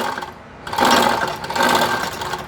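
A sewing machine motor whirs close by as it stitches, starting after a brief quiet moment and running steadily with a mid-pitched mechanical drone.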